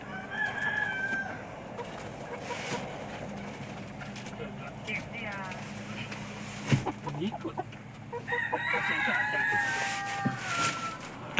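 Chickens on a rural poultry farm, close and loud, with a rooster crowing and hens clucking in bursts, while people talk nearby.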